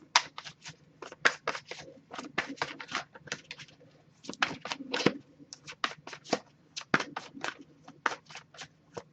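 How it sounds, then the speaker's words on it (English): Tarot cards are shuffled up close in quick, crisp riffling bursts, a dense run of papery flicks and slaps with brief gaps between handfuls and no talk. "if I shuffle for a while without anything coming up, I'll just move on to the next deck"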